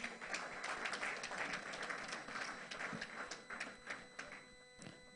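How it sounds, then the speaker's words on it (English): An audience at a Yoruba book launch claps for members of the Ijebu-Jesha Social Club, a sustained patter of many hands heard from a slight distance with uneven, fluttering density and no talk. "Can we clap for them, please?"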